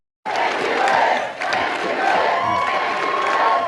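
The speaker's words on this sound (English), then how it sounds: "That proclamation spurred a chant of approval from the crowd." A large crowd at a political election rally erupts in a loud approving chant and cheer that starts abruptly and holds steady, filling the space with massed voices.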